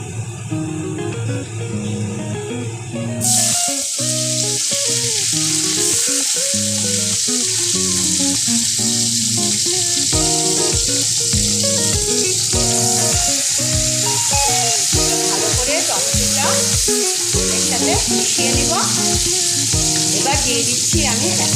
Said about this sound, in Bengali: এবার আমি কিছু ফোড়ন দিচ্ছি এখানে এলাচি দারচিনি লবঙ্গ এটা ফোড়নে দিয়ে দিলাম